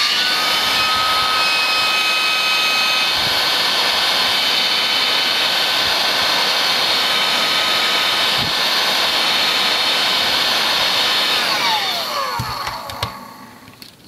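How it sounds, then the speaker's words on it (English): Heat gun blowing hot air over an ECU circuit board, a loud steady whooshing roar with a high whine that drops in pitch as it powers down near the end, no talk. "Your average heat gun has the potential to do some real damage to an ECU"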